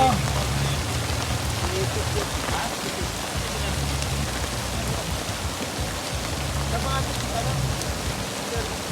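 Steady rain pours down in a continuous broadband wash, with faint voices murmuring underneath at times.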